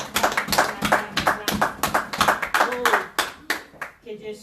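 A church congregation applauds to acclaim the word of God during a French-language service, with a loud, steady run of clapping that fades near the end as voices mix in.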